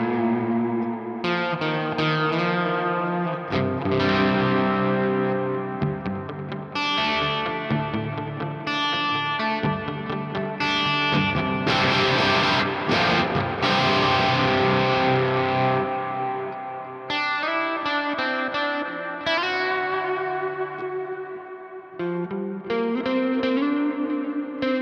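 An electric guitar plays ambient lead lines through a Neural DSP Archetype Nolly Ambient Breakup preset with a Marshall amp, a regular 57 cab mic, delay and reverb, giving mildly distorted, echoing notes and chords that sustain continuously.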